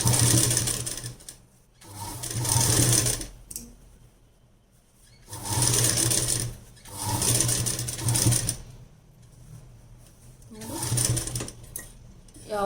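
A sewing machine stitches a blouse in several rapid whirring bursts of a couple of seconds each, with quiet gaps between runs where a voice talks.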